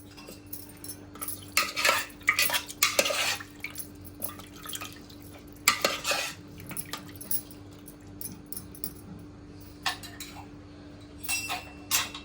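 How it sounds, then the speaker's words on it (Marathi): A metal spoon clanks and scrapes inside a pressure cooker while stirring mutton with water, in irregular bursts, with pauses between rounds of stirring and no talking. "चांगले मिक्स करून घ्यायचं आहे"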